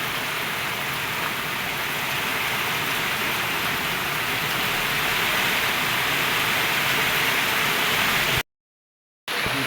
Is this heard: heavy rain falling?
yes